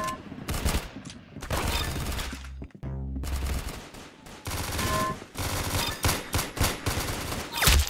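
Rapid game gunfire in Roblox Arsenal comes in dense automatic bursts of loud, close shots with brief gaps between volleys.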